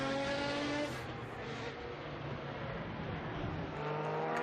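A historic Le Mans-type race car charges past on the Estoril circuit during a classic racing event, a faint, distant engine roar that swells briefly and fades, heard from afar.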